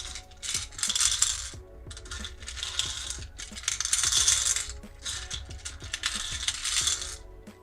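Tarot cards are shuffled by hand in quick repeated riffles, a crisp papery flutter coming in several bursts up close with brief pauses between them.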